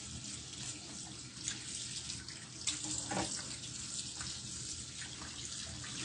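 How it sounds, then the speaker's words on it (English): Running tap water rinses a fish in a sink, a steady faint wash of flowing water with slight splashing changes as the fish is moved beneath the stream. "we're just gonna go ahead and have that rinsed out. I want to rinse it out first."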